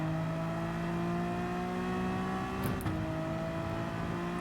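Race car engine in Gran Turismo 7 at Watkins Glen, chasing a Lamborghini in eighth place: a steady high-pitched whining drone holding constant, with a brief shift-like wobble near the end.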